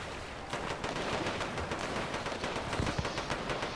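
Dense, continuous crackle of battle noise in a shooter video game, a steady stream of rapid gunfire-like bursts running throughout at an even, loud level, with no talk over it.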